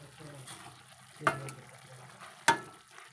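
Stirring soya curry in a cooking pot, two sharp scrapes of a spoon against the pot standing out over a faint bubbling simmer.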